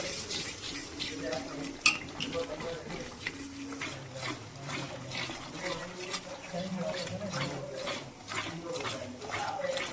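Two hundred millilitres of yogurt is mixed into a spicy drumstick gravy in a pan, with soft, repeated scraping and stirring and light clinks of a spoon, heard beneath a person talking.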